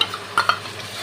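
Cashew and poppy seed paste being fried with spices, stirred with a couple of quick scraping strokes over a soft sizzle in a brief burst, no talking.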